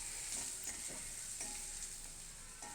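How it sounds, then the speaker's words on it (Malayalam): Mustard seeds crackle in hot coconut oil, with faint scattered pops and ticks over a soft, continuous sizzle, heard quietly with no talk. "വെളിച്ചെണ്ണ ഒഴിച്ച് കടുക് പൊട്ടിക്കുക"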